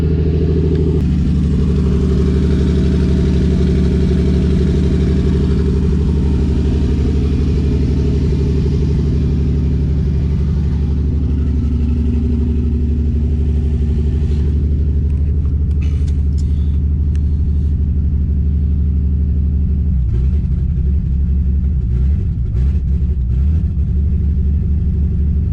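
A turbocharged BMW E46 engine rumbles loud and close at idle with a deep, steady drone, swelling into brief revs and throttle blips toward the end.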